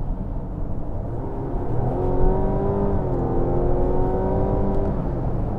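A Mazda CX-60 SUV accelerates hard through the mid-range, its engine note rising steadily in pitch as it revs up from inside the cabin, loud and continuous with no talking.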